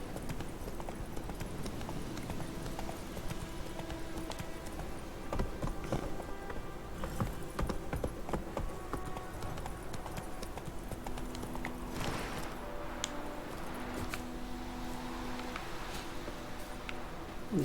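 Horse hooves clip-clop in steady rhythm in The Witcher 3 as the horse Roach walks and trots, close and moderately loud over faint game ambience and music.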